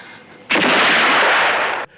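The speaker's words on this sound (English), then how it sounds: "Fire! Kill him, Carolyn." Gunfire from the 1965 film The 10th Victim comes as a single loud burst of harsh, sustained noise lasting just over a second, starting abruptly and cutting off sharply, with no talking.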